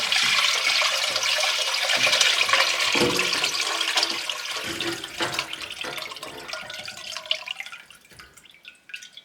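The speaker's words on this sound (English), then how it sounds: "So let's pour this over into a Dutch oven and get it heated back up so that we can put it into jars." Homemade beef bone broth poured from a pot into a Dutch oven, with a continuous splashing, gurgling pour that tapers off into faint drips near the end.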